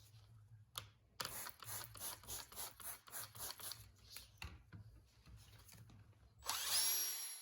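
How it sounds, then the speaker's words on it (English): A power sander with a 3000 grit disc whirs against a plastic Fiat 500 headlight lens in repeated pulsing passes, ending with a louder, higher-pitched whine as it spins up. "switch to a 3000 grit sanding disc and repeat the process as you did previously."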